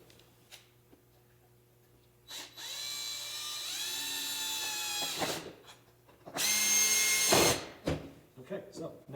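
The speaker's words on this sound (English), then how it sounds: "And I'm going to put my screws in." A power drill drives screws into a wooden box during a glue-up, with two whirring bursts: a longer steady run that slows, then a short louder burst, with brief clicks and handling noise around them.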